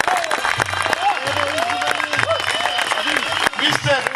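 An audience at a Macedonian cynology event for the FCI president breaks into loud, sustained applause with some cheering, while a voice speaks over the clapping.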